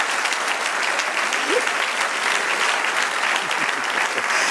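A church congregation gives steady, loud applause during a sermon, a continuous dense roar of clapping that holds evenly from start to finish.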